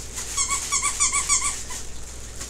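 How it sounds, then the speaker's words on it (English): A dog toy squeaker squeezed repeatedly, giving a run of short, high, bright squeaks in quick succession that stop about halfway through, close by over a quiet room. "Oh, there's a squeaker!"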